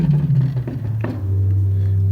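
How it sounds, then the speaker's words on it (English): A 16-foot Quintade flue stop on the Hauptwerk of a pipe organ sounds a low, hollow sustained tone that shifts pitch and then holds steady, loud and close with no talk. "the Quintade in the Hauptwerk, is a 16-foot. So it sounds like this."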